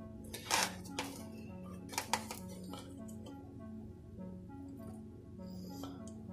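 A knife slices through a loaf of chocolate chip pumpkin bread. Soft cutting sounds and a few sharp clinks against a plate or board are heard close by, with light background music playing.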